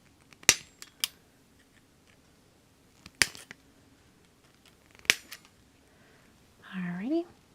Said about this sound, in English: So these are die snips from Lawn Fawn.